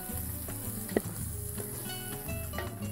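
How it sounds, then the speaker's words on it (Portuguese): Two heaping spoonfuls of garlic frying in a pan for feijoada, a steady close sizzle with occasional light pops and stirring scrapes, no voices over it. "Duas colheres bem cheias de alho. Vamos deixar dourar."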